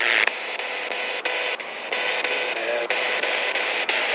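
A ghost-hunting spirit box sweeps through radio stations at the ruins of Ruthin Castle, producing steady hissing static that is chopped into short, regular bursts by the sweep. It is heard up close with no speech.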